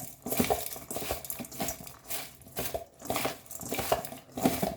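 A cabbage and tomato salad dressed with vinegar, salt, pepper, chilies and sugar is tossed in a bowl, producing rhythmic clinking and wet scraping strokes that repeat about once a second at close range.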